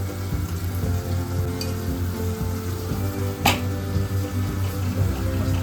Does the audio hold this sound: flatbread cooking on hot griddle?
yes